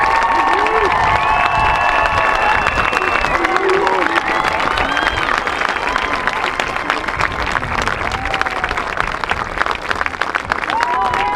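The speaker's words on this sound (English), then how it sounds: "how about another round of applause for all of these talented, dedicated kids for their performance tonight" Audience at an outdoor marching band competition in Racine fills the air with sustained loud applause and cheering, steady dense clapping with scattered whistles and shouts throughout.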